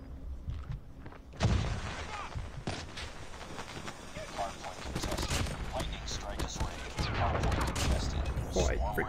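A Swordfish burst rifle fires in Call of Duty Mobile, with sharp gunfire bursts and shots scattered through the passage over game ambience and footsteps, and a voice talking over it.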